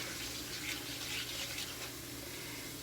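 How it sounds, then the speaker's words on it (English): Warm tap water running steadily from a faucet for sweet and sour sauce, a continuous close hiss of flowing water with no talking. "Mr. Hands, could I please have 3 cups of warm water?"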